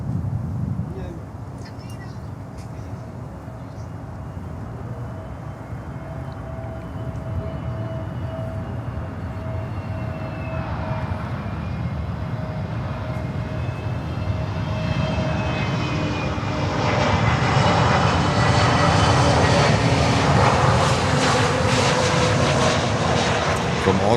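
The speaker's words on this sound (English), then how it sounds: "next inbound, we have Frontier coming in," A Frontier Airbus A320neo jet arrives at Miami airport with a steady engine roar that grows louder toward the end as it passes close by. Someone talks over it.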